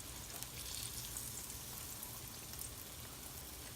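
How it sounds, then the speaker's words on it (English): Vegan fried chicken frying in hot grease, a constant dense sizzle with crackly pops and spits, steady and close throughout, no voices. "Be careful, y'all, because the grease is hot and it will splatter."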